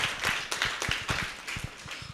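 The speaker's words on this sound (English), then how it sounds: "Clap for him." Children at a school celebration clap briskly for a classmate, a quick run of sharp, close claps from a small group that continues throughout.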